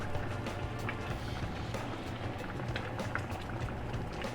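Louisiana gumbo roux bubbling in a hot pot, a steady dense simmering crackle and pop that fills the clip without talk.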